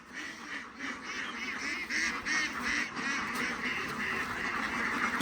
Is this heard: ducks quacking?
yes